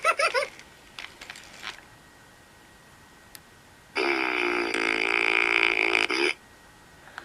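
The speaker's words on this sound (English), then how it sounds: "He farts if you pull his tail." A Funky Furby toy blurts a buzzy electronic fart when its tail is pulled, a single sustained burst of about two seconds after some earlier clicks and brief noises.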